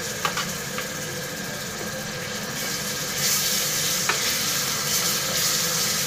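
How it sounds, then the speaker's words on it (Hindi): Garlic paste fries with browned onions in a pan for chicken masala, a steady close sizzle with occasional stirring clicks, with no talking. "अब प्याज में बहुत ही अच्छा सा कलर आ गया है तो यहाँ पर हम लहसुन का पेस्ट डालेंगे"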